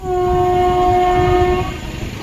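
A passing train blasts a long, loud, steady horn close by over a rumbling undercarriage. The horn cuts off partway through, and the rolling rail noise carries on alone.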